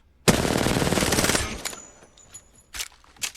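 A sustained burst of rapid automatic gunfire in Apex Legends, fired from a standing position, lasts over a second. A few scattered single shots and clicks follow.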